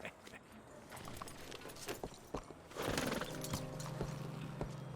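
Horse hooves clip-clopping at a walk in the Red Dead Redemption 2 video game, a sequence of distinct, moderately close hoof strikes over ambient outdoor sound, with a low steady hum joining partway through.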